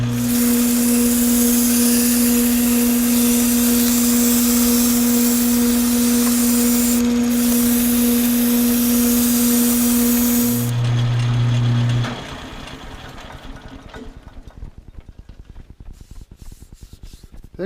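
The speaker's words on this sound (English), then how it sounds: "I'm going to sand it smooth." Turned wood piece sanded smooth with 240-grit sandpaper on a running lathe, a loud steady motor hum with a constant rubbing hiss for about eleven seconds, then the lathe spins down to a quieter fading rattle.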